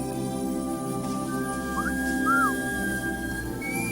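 The alien creature's whistle from the 1988 film Mac and Me: a few short, faint, rising and falling whistled notes over a steady background hum.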